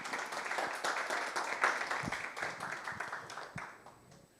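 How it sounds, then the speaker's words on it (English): An audience at a small business pitching workshop claps, a fairly quiet patter of many hands that stays steady and then tapers off near the end. "Let's give them a round of applause"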